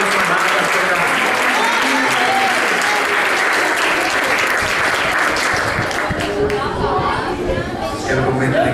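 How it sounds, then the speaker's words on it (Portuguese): A church congregation applauds loudly and continuously, dense clapping filling the room with voices and cheering mixed in throughout. "Agora dá uma salva de palmas para Jesus"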